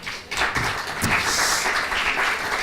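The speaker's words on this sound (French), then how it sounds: "qu'on peut applaudir" Conference audience applause welcoming a speaker at a media-buying industry event, a full burst of many hands clapping that starts abruptly and holds steady.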